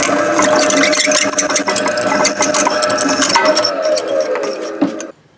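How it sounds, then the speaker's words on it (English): An old Ellis Model 90 drill bores a hole in a Chevy K1500 during an A/C delete, a dense continuous whirring grind with ratcheting mechanical chatter that runs steadily for about five seconds, then cuts off abruptly. "I'm sure they've seen a hole drilled before."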